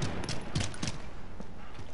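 Several gunshots from an online military shooter match fire in a quick cluster of sharp cracks, then a few scattered single shots follow over a steady game background.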